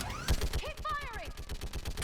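Weapon fire in a Mass Effect 3 battle, rapid bursts of gunshots under shouted voices and whooshing sci-fi effects, a busy, close firefight.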